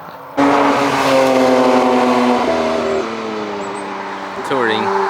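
Porsche 911 GT3 Touring prototype of the 992.2 generation, loud and near, its engine note droning steadily past on a track with clear harmonic tones that shift as it goes by, a brief change near the end.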